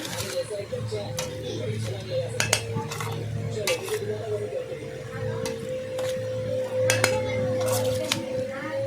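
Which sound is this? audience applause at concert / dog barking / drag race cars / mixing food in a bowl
mixing food in a bowl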